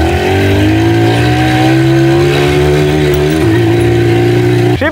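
A Hercules Prima GT moped's small two-stroke engine runs steadily and loud up close, a constant buzzing drone with a slight dip in pitch near the end.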